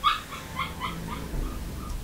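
A dog lets out several short, high whimpering yips and soft barks at moderate distance, fairly faint over a steady background hum.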